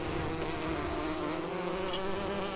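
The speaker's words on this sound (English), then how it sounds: "one of the bees are taking it to a hive" Bees buzzing in the Lego The Hobbit video game, a steady, loud droning hum that stays unbroken throughout, with no speech.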